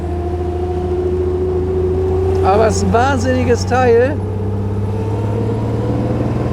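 Engine of a 1933 Lagonda M45 prototype car running steadily with a deep, constant drone, while someone speaks over it in the middle for about two seconds before the engine continues on its own.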